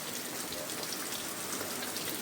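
Heavy rain pours steadily in a mountain setting, a dense, even hiss of drops on surfaces that fills the whole moment without a break and with no voices.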